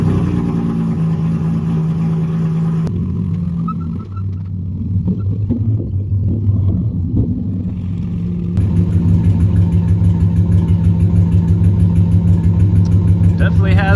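A car fitted with big cams and ported heads idles with a lumpy, loping rhythm, a steady low rumble filling the whole stretch, briefly softer in the middle before returning fuller.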